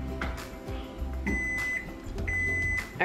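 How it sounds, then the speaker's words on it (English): An electronic timer beeps in a steady high tone, sounding twice in a home with low background clatter and no talk. "That was your timer."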